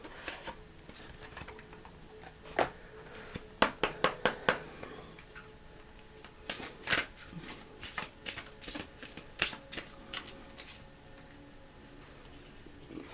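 Oracle cards are shuffled by hand in quiet bursts of rapid riffling flutters, starting softly, then clustering in several crisp runs of slaps and snaps through the middle before trailing off, with no talking.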